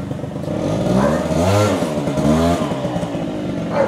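A 1998 Honda Dio AF18 50cc two-stroke scooter engine revs up close, its pitch rising and falling in a couple of loud rasping sweeps before settling back.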